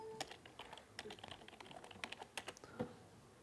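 Quick, uneven keystrokes on a computer keyboard during a MATLAB engineering maths lecture, a close burst of clicks with short pauses and no talking.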